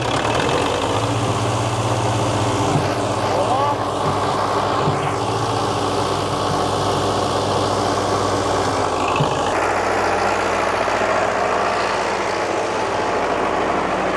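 An old tractor engine runs steadily with a loud, continuous low rumble throughout while lifting a load with its bucket, its pitch dipping briefly partway through.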